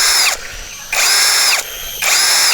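A Keelat KCD011 cordless drill whines at high speed in three loud bursts, with short gaps where it winds down between them.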